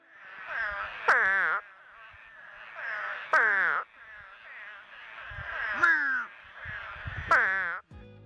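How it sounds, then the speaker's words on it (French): Spadefoot toads give their mating call, four loud nasal bleating cries in a row, each rising into a sharp honk that breaks downward, evenly spaced and close, with quieter croaks in between. "je m'en voudrais vraiment de ne pas vous faire entendre leur cri d'accouplement absolument absurde"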